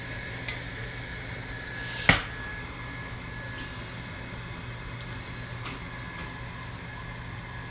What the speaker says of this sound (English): So heat the pan, heat the fat.